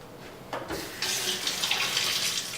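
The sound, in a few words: water poured into a blender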